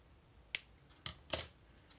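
Scissors cut through packing paper, close by, in three sharp, crisp snips spaced about half a second apart against a quiet background.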